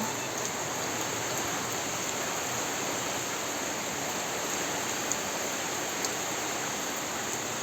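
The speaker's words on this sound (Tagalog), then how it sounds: "Kagabi hindi naman malakas ang ulan, ngayon lang malakas." Steady, dense rain pours down continuously, a heavy hiss with no voices.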